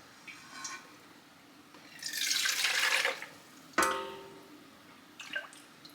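Homemade chicken broth is poured into canning jars on a kitchen counter in short splashy bursts, with a sharp clink of glass between pours, fairly quiet and close.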